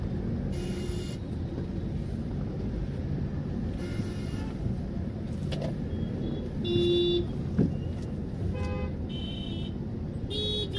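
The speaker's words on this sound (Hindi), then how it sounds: "ट्रैफिक देख रहे हो, पलसपा फाटा पनवेल जैम पैक्ड।" Traffic jam at Palaspa Phata near Panvel, cars idling in a steady low rumble while several horns toot in short repeated bursts, some near and some farther off, over continuous road noise.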